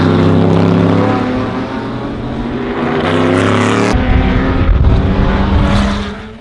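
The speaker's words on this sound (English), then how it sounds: "Lister Sports racing cars, built up to 1963, rolled out of the paddock and into the preparation area" Lister sports racing cars, built up to 1963, roll out of the paddock as loud engines drone steadily, shifting in tone as the cars move off.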